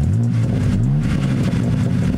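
A car engine revs steadily and loudly, close by, with a rising and falling drone that carries the whole time with no talking.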